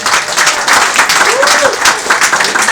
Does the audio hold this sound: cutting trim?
no